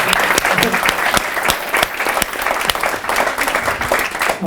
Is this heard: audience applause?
yes